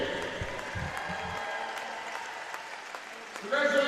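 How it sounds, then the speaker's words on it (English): An arena crowd applauds young Peewee B hockey players after a championship final, sustained clapping filling the space with steady hiss, and a voice speaks over it near the end. "I want a big round of applause for these young athletes on a well-played championship game."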